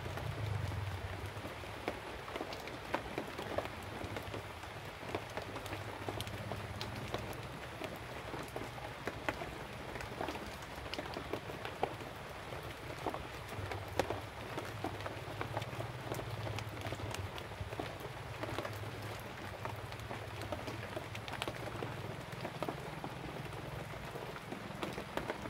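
Steady rain patters and hisses on surfaces throughout, a constant wash of drops with no letup.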